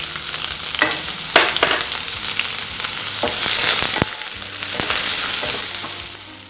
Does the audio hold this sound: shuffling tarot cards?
no